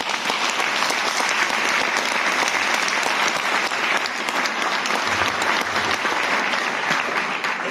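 A large audience breaks into a big, sustained round of applause at a stage production's thank-you moment, the clapping dense, loud and unbroken throughout.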